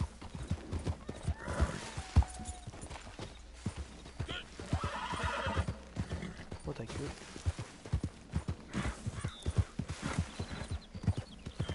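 Horses in a PS4 video game clip-clop along with steady rhythmic hoofbeats and let out neighs and whinnies, while a player talks over the game sound throughout.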